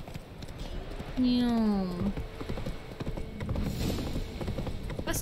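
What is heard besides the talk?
horse hooves clip-clopping in a video game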